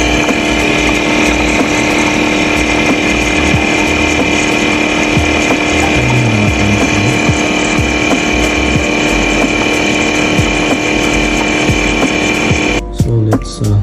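The milk motor of a Necta Koro coffee machine runs as a steady loud electric hum and whine, continuous for several seconds before cutting off near the end, with faint handling noises.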